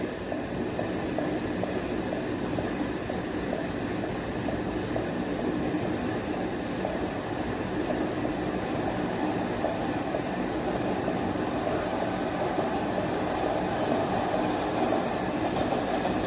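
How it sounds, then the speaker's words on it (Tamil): A train rumbles past in the Monster Meteor video game, a steady, loud, continuous mechanical roar with faint rail clatter that holds evenly throughout, with no voices over it. "ட்ரெயின் வருது பார்த்துங்க."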